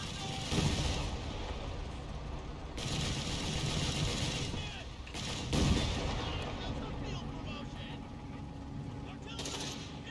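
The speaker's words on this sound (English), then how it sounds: "Artillery Wizard getting artillery on the AT gun" Artillery fire in Company of Heroes 3, with several heavy booming impacts over a continuous battlefield din, moderately loud, and a commentator talking throughout.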